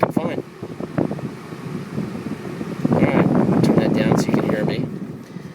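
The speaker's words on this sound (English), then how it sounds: "There comes the cold air," A car's air conditioning blows cold air in a loud, steady whoosh from the vents, building stronger partway through while a person talks over it.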